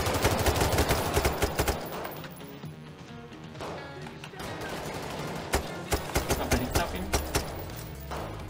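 Gunfire in the video game Payday 3 during a heist, with dense bursts of rapid shots and heavy impacts going on throughout, loud and close, with players talking over it.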